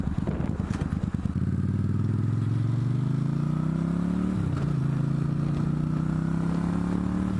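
Motorcycle engine running steadily while being ridden, a continuous loud drone whose pitch climbs as it revs through a gear, with a brief dip and shift midway before settling again.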